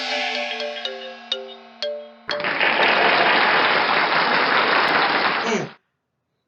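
Applause from a classroom audience of children bursts in after a few chiming tones, a dense steady patter of clapping lasting about three seconds, then cutting off abruptly.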